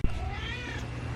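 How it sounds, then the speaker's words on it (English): A cat in a roadside oddities shop in Kansas meows once, a drawn-out, wavering cry heard close and fairly clear over a low background hum. "Here's Dave the Cat."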